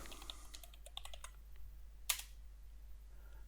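Someone types a search keyword on a computer keyboard, a quick run of light, close key clicks followed by one sharper tap, quiet against a low hum.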